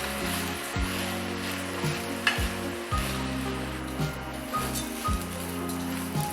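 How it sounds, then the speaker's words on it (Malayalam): Kaima rice is stirred into prawn biryani in a cooking pot, giving a steady sizzling, scraping rustle. A low repeating hum underneath rises and falls every second or so, and there is no talking. "ഇനി റൈസ് മിക്സ് ചെയ്യാം"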